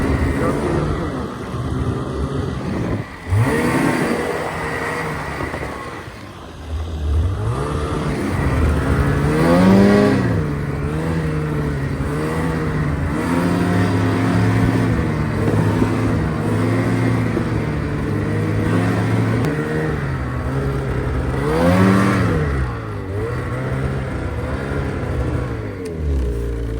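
A car drives through a forest with a steady engine drone that rises and falls as it climbs and shifts, close and loud throughout, while people talk over it.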